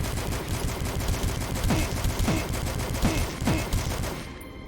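Assault rifle fire in an old-school boomer-shooter style video game, loud rapid bursts of repeated shots continuing over several seconds before cutting off.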